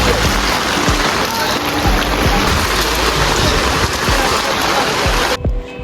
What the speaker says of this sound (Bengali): রওনা দেওয়ার টাইমে প্রচুর পরিমাণে বৃষ্টি